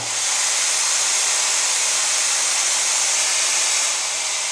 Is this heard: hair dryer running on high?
yes